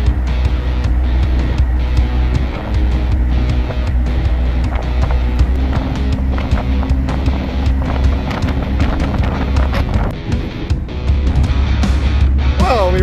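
A 12-valve Cummins truck driving while towing, its engine a loud, steady low drone under constant wind buffeting, with no talking.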